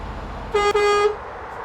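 A truck horn in the Euro Truck Simulator 2 driving game gives one loud, bright blast of about half a second with a brief dip partway through, heard alone against quiet background noise.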